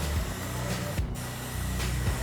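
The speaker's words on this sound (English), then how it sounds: "Now as I'm spraying this area here" A paint sprayer spraying primer on a house exterior hisses steadily up close, a continuous spray with a short pause in the middle before it starts again.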